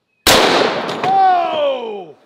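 A .30-06 rifle fires a single 150 grain Accubond round through drywall, a sudden very loud close blast with a long ringing, falling tonal decay.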